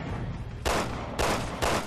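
Gunfire in Resident Evil 6 comes as three sharp, loud shots spaced roughly half a second apart, each a broad burst with a short tail and no talk over it.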